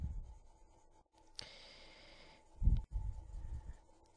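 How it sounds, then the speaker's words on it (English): Pencil sketching on paper for an anime face drawing, soft scratchy strokes and rubbing close up, with a brief louder scrape partway and a few firmer, quick strokes near the end. "and sort of start sketching"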